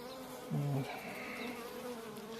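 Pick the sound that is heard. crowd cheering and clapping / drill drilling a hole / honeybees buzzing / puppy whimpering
honeybees buzzing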